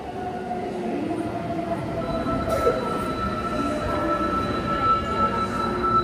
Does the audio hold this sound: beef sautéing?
no